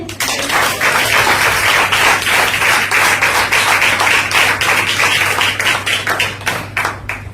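A church congregation claps together loudly and continuously, with fast, dense handclaps at close range and no talking.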